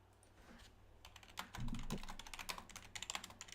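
Quick typing on a computer keyboard during a live creator stream, a dense run of close, crisp key clicks that picks up speed and grows busier toward the end, with no talking.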